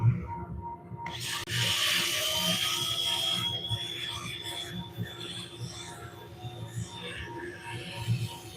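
Sandpaper rubs against a winged wooden bowl spinning on a lathe, a soft continuous scratchy friction over a steady motor hum, fairly faint and close, with occasional louder swells.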